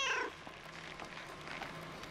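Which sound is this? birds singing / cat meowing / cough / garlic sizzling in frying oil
cat meowing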